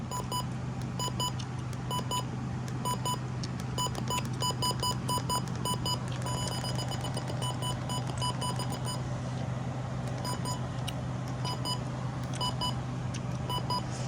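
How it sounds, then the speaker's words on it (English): A Midland WR120 DSP weather radio gives short, high electronic beeps as buttons are pressed, sounding in rapid repeated clusters over a steady low hum, no voices. "Here are the invalid button beeps."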